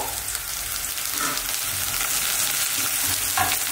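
Chopped ginger and garlic fry in a hot pan with a steady, dense sizzle, close and fairly loud, with faint stirring scrapes running through it and no voices.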